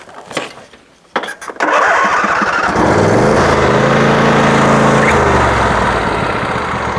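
A Craftsman DYS4500 lawn tractor engine cranks with a few brief starter bursts, then catches and settles into a steady, loud idle that runs close by.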